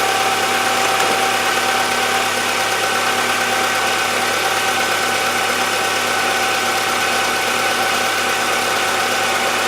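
A 1997 Toyota Camry engine idles steadily, a continuous close mechanical hum with a faint constant whine, after shim replacement and a new used throttle body, no voices.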